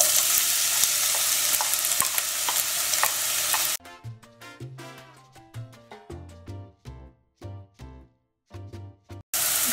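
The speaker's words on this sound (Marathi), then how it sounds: "तेल गरम जाले कांदे घालया" Chopped onions hit hot oil in a pan for Goan prawn potato chops, giving a loud, continuous sizzle. After about four seconds it cuts off abruptly and is followed by unrelated tonal sounds.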